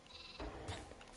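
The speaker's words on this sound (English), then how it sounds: "Oh, that's a sheep." A sheep bleats in the Minecraft video game, a short game-style bleat heard close and clear over a faint background hiss, with no talking.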